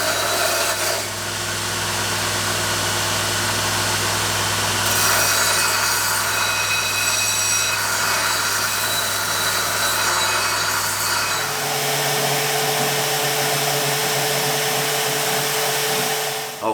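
Stock removal on a knife blade made from an old leaf spring, a loud, continuous abrasive grinding roar with steady intensity that shifts in tone partway through, close up with no talking.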